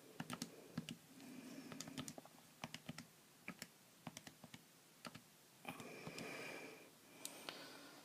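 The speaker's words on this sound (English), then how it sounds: "So just type that all in your calculator and we get 288." Quick clicks of buttons being pressed to enter numbers into a calculator, in irregular taps and short runs at close range. Faint breathing sounds fall between the presses.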